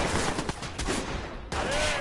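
Gunfire bursts in the video game Watch Dogs, a loud rapid fusillade with sharp breaks, filling the whole moment without pause.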